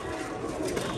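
Pigeons coo softly in a short, steady murmur of low throaty calls, heard alone without talk.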